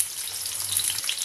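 Capsicum frying in a corn curry, a brief steady hiss of sizzling oil, close and even, with a faint low hum underneath.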